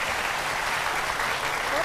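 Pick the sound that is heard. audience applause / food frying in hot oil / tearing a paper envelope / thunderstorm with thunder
audience applause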